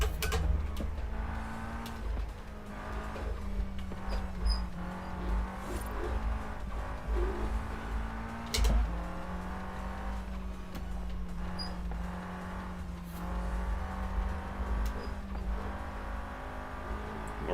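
A Nissan S13 in Forza Horizon 5 drones through a touge run, its engine pitch rising and dropping as it shifts down, with brief sharp blips and a constant near rumble throughout.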